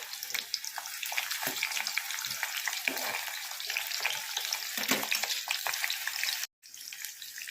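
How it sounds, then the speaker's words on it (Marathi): Sliced onion frying in oil, a dense and steady sizzle and crackle that holds close and fairly loud almost throughout, with a brief drop-out near the end. "आपण आता ह्यात कांदा टाकूया इथे मी कांदा टाकून घेतला आहे"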